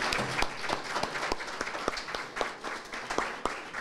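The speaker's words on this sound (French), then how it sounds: "Je vais juste vous demander qu'on applaudisse tous les meneurs de cette campagne" An audience applauds its campaign leaders at a civil society disability rights event in Haiti, with a steady wash of many hands clapping together and sharp individual claps standing out throughout.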